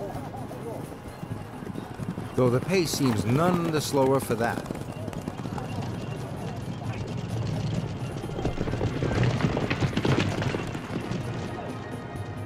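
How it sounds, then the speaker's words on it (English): Rapid hoofbeats of trotting horses racing past in time trials in China, amid loud crowd and engine-like noise, with someone talking over the commotion. "the horses don't gallop but trot,"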